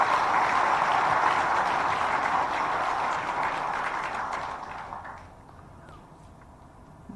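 Dense applause from a large audience at a CardioPace 2023 event in Chennai, a steady wash of many hands that holds for about five seconds and then fades out, with no talk over it.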